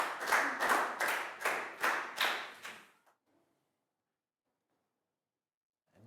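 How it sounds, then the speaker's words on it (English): A classroom of pupils in a Year 4 science lesson gives a short round of applause for a classmate: about three seconds of close, bursting claps that stop abruptly, leaving near silence. "Big round of applause for Down."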